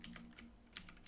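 A quick run of keystrokes typing a command on a computer keyboard, several soft clicks in an uneven rhythm, faint and close against a quiet background hum.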